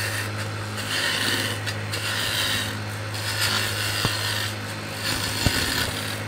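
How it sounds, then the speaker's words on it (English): Peeling cuts on a wood lathe strip wood from a turned wine bottle blank, giving a steady rasping scrape in repeated strokes over the lathe's constant hum, close and loud. "Anytime you've got to remove a lot of wood quick, those peeling cuts are"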